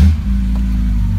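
A 1985 Porsche 911 Targa engine catches and settles into a loud, steady idle, with a brief surge at the start followed by an even low rumble, close by and without talk.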